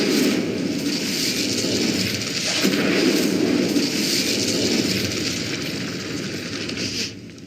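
An Incendio fire spell cast in Hogwarts Legacy, a steady roaring whoosh of flame that swells midway and holds loud before cutting off abruptly near the end.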